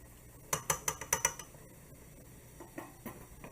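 Spoon stirring boiling macaroni in a metal pot, a quick run of six sharp scraping clinks followed by a few softer, sparser knocks, close and fairly quiet with no talking.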